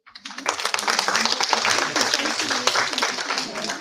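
An audience breaks into clapping that quickly builds and holds steady, many hands at once, with some voices mixed in.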